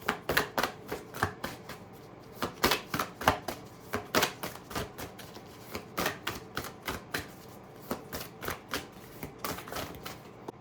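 Tarot cards being shuffled by hand, a quick run of crisp flicking riffles in irregular bursts, close and fairly quiet, with no talking.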